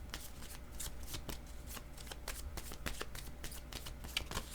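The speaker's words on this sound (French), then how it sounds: "Je vais déposer une carte sur la main." Tarot-style cards shuffled and laid down during a card reading, with a steady run of crisp riffling flicks and soft slaps close by, fairly quiet with no talk over it.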